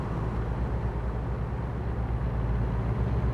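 Steady, moderate drone of a Freightliner Columbia truck engine cruising in American Truck Simulator, a low continuous hum with no change in pitch, close and even throughout.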